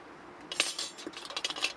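A metal saucepan is set down over a campfire in a forest, giving a burst of faint clinks and scrapes of metal on metal and grate, clustered irregularly over a couple of seconds without talk.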